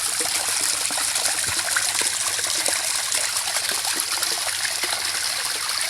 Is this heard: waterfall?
yes